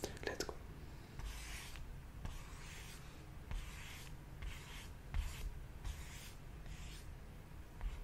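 A pen scratches across paper in quick, continuous strokes, sketching a drawing against a timer, close and soft with short pauses between strokes.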